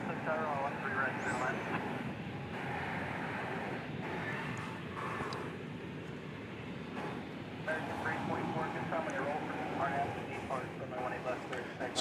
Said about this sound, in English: So we have lots of exciting taxiing action for you here